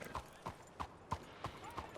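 A Nakota horse in the Red Dead game walks with a steady clip-clop of hooves, about three even footfalls per second, quiet and close, with no other sound.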